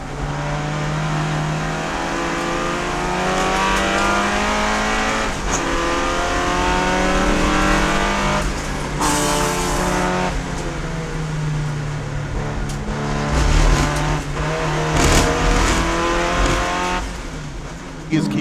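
Race cars, including a Honda CRX, roaring around the track at the SCCA Runoffs, with loud sustained engine drone and shifting pitch as cars pass, under continuous excited commentary.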